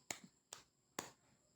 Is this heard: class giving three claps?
yes